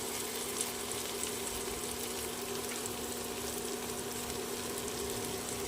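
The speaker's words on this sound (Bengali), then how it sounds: "রসুন বাটাটা 30 সেকেন্ড নাড়িয়ে নিতে হবে যাতে রসুনের কাঁচা গন্ধটা চলে যায়" Garlic paste frying in a pan with already-fried chopped tomato and onion gives a steady, close, even sizzle and hiss throughout, with no distinct stirring strokes.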